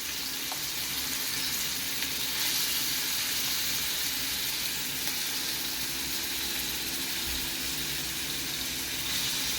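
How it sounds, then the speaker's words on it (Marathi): Onion hits hot oil in a pan for a Mumbai Saraswat bombil bhujane, giving a loud, continuous close-up sizzle that holds steady with no talk. "तेल तापलंय. कांदा घालूया आपण."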